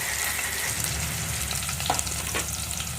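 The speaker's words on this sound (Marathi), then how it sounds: "कांदो परतून घेऊया लाल" Chopped onions and tomatoes fry in hot oil at home for Puneri misal, a constant close hiss with a low rumble beneath and a couple of brief stirring knocks near the end.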